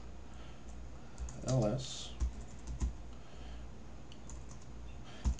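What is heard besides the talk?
typing a terminal command on a computer keyboard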